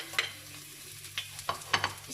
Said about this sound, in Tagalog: Then I'm going to put first the garlic.